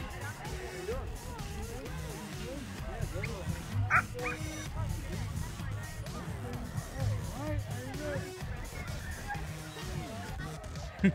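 Several puppies yip, whimper and bark in high, overlapping bursts nearby, with a person speaking softly in the background.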